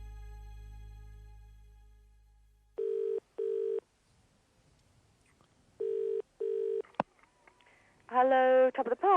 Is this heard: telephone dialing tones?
yes